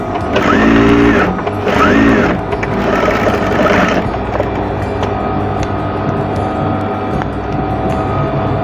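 A sewing machine stitches an apron in loud, close, steady motor whirring, with brief pauses between runs of double stitching and no talk.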